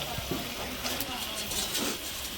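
Chicken pieces tipped into hot spice mix in an iron wok, a steady close sizzle and frying hiss with brief stirring scrapes, while a voice talks over it.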